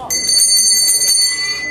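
A hand bell rings steadily and brightly at a St. Martin's wine blessing, where new must is christened into wine, with voices present around the ringing.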